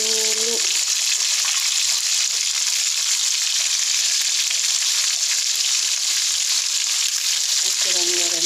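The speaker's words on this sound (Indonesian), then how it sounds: "goreng ayamnya dulu goreng-goreng" Steady, loud sizzling of chicken frying in hot oil fills the whole stretch, with brief bits of voice at the start and end.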